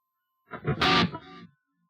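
A short distorted electric guitar lead phrase through a BOSS GT-8 with 400 millisecond delay and plate reverb, ringing out with echoing delay and a reverb tail fading after about a second.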